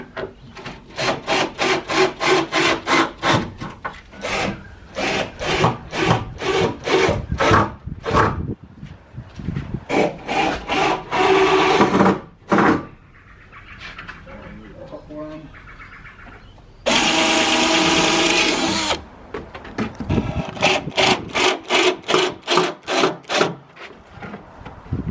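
A drill driving screws into pre-drilled holes to join wooden reptile enclosure pieces, giving many short rapid bursts in a rhythmic series, with a longer steady whir near the end, close and loud.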